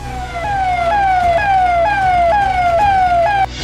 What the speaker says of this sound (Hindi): सायरन से सेफ्टी संदेश।